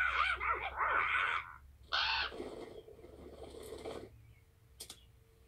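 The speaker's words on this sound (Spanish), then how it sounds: "Homero, me siento incómoda con una pandilla de cuervos en nuestra habitación" Cartoon crows caw in a bedroom, a few harsh, raspy calls in loud bursts near the start, then a quieter stretch of fluttery, scratchy cawing that fades out.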